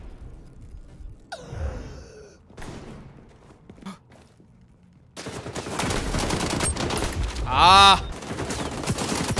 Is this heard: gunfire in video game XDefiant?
yes